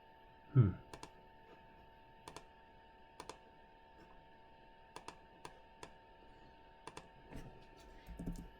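Sparse computer mouse clicks and a few keyboard taps sound close and quiet, spaced irregularly in a silent room, with one louder thump near the start.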